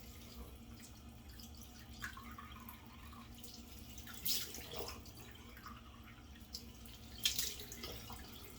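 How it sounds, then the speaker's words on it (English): Cold water runs from a sink tap in a bathroom during a shave, a faint steady hiss of flow with occasional splashes and brief clatters over nearly nine seconds. "I'm going to turn my cold water on here"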